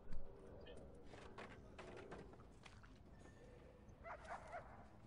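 A dog in the prison-management game Prison Architect barks and yips in a few short bursts, fairly faint and set against a busy background of game ambience.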